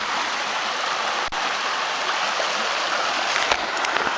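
Water flows steadily over rocks in an outdoor creek, giving a constant close rushing babble with a brief knock partway through and faint higher splashes near the end.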